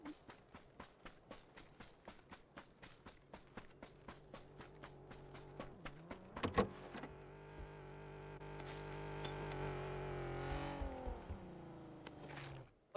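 A car driving in the video game PUBG: a fast run of regular thumping ticks gives way to a rising engine drone that swells and then fades, fairly faint overall.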